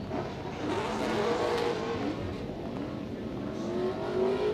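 A race car at a Texas qualifying event sounds from a distance, its engine tone easing and falling slightly as the driver lifts off the throttle, with faint tire noise over a broad steady roar and no talk.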